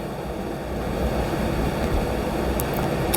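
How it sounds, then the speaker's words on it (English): A big ocean wave washes in on the Welsh coast, a steady broadband roar of surf that holds at an even level throughout with no voices. "There's a big wave just coming in now."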